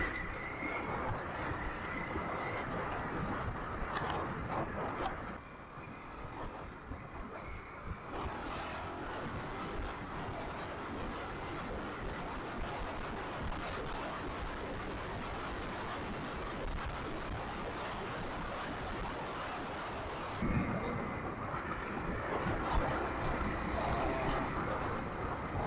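Steady wind rush and engine drone while riding a new MY26 Kawasaki KLX motorcycle, heard continuously up close, with a brief shift in tone partway through.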